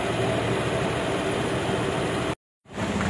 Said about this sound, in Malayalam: ട്രെയിൻ വന്നിട്ടുണ്ട്.